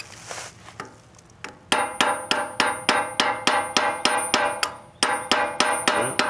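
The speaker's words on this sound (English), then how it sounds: "tap with a screwdriver and a hammer and rotate the hub that way while I hold this" A hammer strikes a screwdriver against a trailer wheel hub during bearing work, a few loose taps and then a steady run of about twenty sharp metallic clinks in even rhythm, close and loud.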